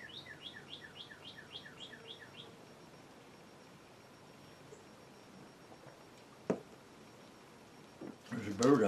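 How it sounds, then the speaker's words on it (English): A bird chirps in a quick series of short repeated calls at the start, then fades, leaving quiet room noise and a few soft knocks. "There's a bird outside making some noises."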